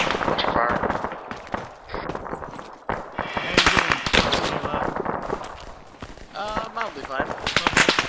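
Rapid bursts of automatic gunfire and single shots in a military video game crackle loudly through the clip, with voices talking over the shooting.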